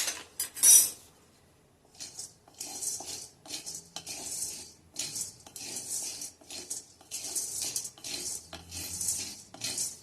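Dry gram dal rattles and scrapes against a pan in a steady run of stirring strokes as it is lightly roasted, close up, with no talking.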